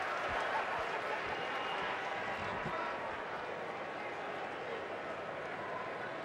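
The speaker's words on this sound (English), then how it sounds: "And a sarcastic round of applause from the home faithful." A home baseball crowd at the Cubs at Nationals game gives sarcastic applause, a steady distant wash of clapping heard under a commentator's voice.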